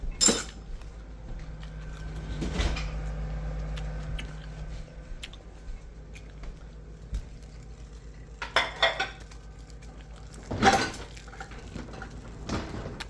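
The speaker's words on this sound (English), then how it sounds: "And then I put dishes away at the same time." Dishes and cutlery being put away in a home kitchen during cooking, with scattered clinks, clatters and knocks of plates, glass and utensils at moderate distance over a low steady background hum.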